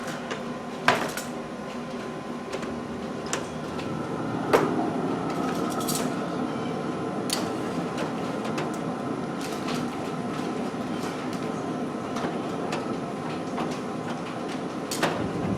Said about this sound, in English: Time to load up the smoker.